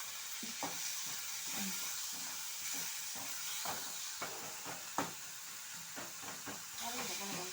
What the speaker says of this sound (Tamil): தேவையான அளவு உப்பு போட்டு வதக்குங்க.